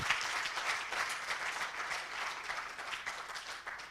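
Audience applause at an awards ceremony in Côte d'Ivoire, a dense, sustained crowd of clapping hands filling the room at an even level, with no speech over it.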